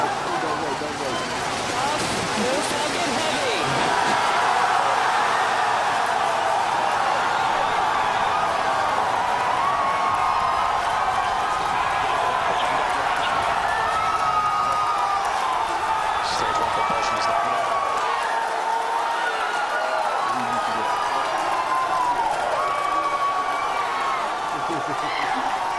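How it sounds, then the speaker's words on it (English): A large crowd cheers and whoops at a Falcon Heavy rocket launch, a loud sustained roar of many voices with shouts rising over it, while a voice talks through the noise. "if you can hear me over the cheering"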